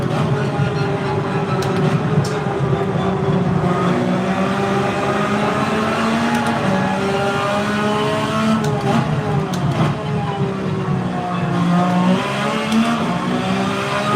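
A GT3 race car engine at Trial Mountain in a racing game revs and accelerates, its pitch rising and falling through gear changes, loud and close for the whole stretch.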